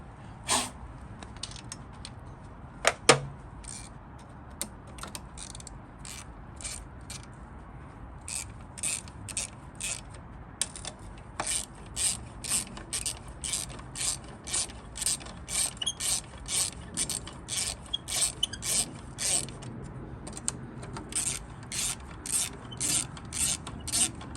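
Steady run of sharp metallic ratchet clicks from a tool driving 6mm Allen key bolts back into a Triumph Daytona motorcycle under rebuild, sparse at first, then fast regular bursts close to the mic.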